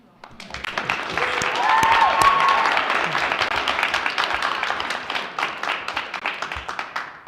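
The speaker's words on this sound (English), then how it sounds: "We certainly have to applaud our students speaking" Audience at a school district board meeting applauding a student's public comment: a sustained, dense burst of clapping that swells quickly, holds, then thins out, with some voices mixed in.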